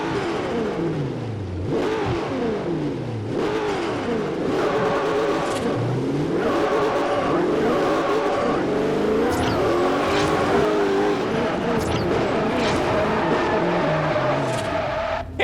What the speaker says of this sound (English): This is the ultimate Aero SSC, truly one of the most wild cars ever.